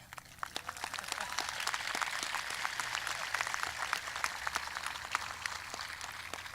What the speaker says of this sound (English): You can applaud, it's big.